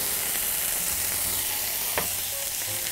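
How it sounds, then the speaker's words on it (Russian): Vegetables sizzle and crackle steadily over medium heat in a preheated pan, with an occasional clink of a utensil and no voices. "Обжариваем на таком среднем огне."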